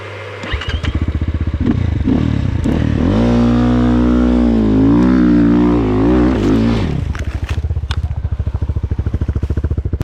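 A KOVI Lite 300 enduro motorcycle rides off-road, its single-cylinder engine thumping steadily up close, then revving hard into a sustained rising roar before dropping back to a throbbing idle-like chug.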